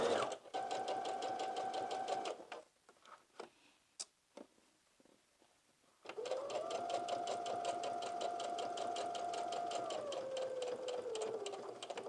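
Close by, a sewing machine stitches a skirt's waistband facing in a fast, even run, then gives a few short clicks and taps in a near-silent pause before a second long run begins.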